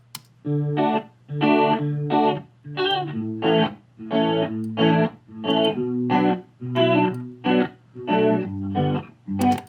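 Electric guitar notes played in a steady sequence of strummed phrases, a mono guitar processed with a wide, shimmering chorus-like stereo widening effect.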